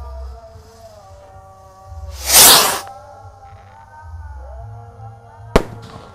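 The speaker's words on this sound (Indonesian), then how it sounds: "Untuk pemanasannya kita nyalakan roket Roman candle dulu ya." A Roman candle firework is lit in an open rice field on a festival night, letting out one loud hissing whoosh as a shot launches, then a sharp crack a few seconds later over a low background hum.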